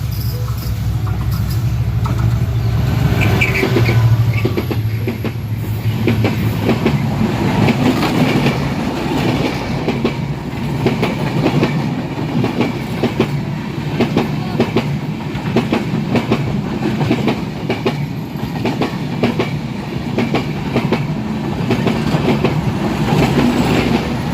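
Drutojan Express running on Indian LHB coaches in Bangladesh, a loud, steady rumble of wheels on rails with continuous clickety-clack close by, and a faint insect-like hiss above it throughout.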